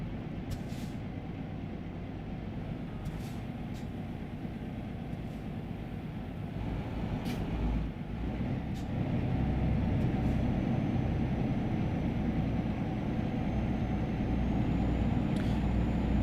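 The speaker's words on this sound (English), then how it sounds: "This truck almost sounds like a hybrid somehow." Truck engine from a truck driving video game, a steady low drone that swells slightly louder partway through, with a few faint high clicks and no talking.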